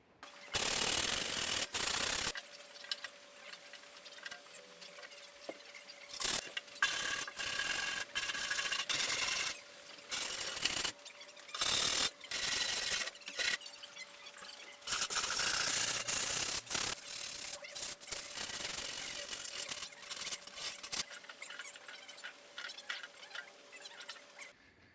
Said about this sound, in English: after some time with the wire brush and some sandpaper and a little bit of grease and wax remover, the back of this first seat is looking in pretty good shape